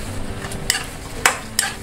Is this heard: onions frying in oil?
yes